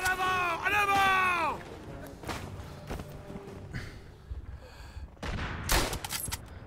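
Machine gun fire in the WW1 shooter game Verdun, bursts of distant automatic gunfire and scattered shots of varying loudness across the battlefield, following a brief shouted voice at the start.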